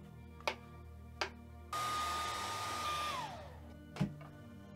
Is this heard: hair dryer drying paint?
yes